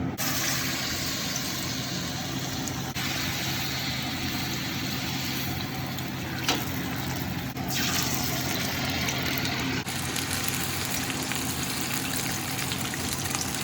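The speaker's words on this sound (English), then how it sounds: "We are now ready to deep fry our fish." Steady, dense crackling sizzle of fish deep frying in hot oil, continuous and close, with a few faint clicks and bumps over a low hum.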